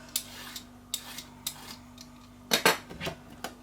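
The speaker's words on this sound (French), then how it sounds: "Allez, on épluche la courgette." A courgette being peeled by hand in a home kitchen for courgette bread, giving a series of short, crisp scraping strokes at irregular intervals, a couple of them louder near the end, close and quiet.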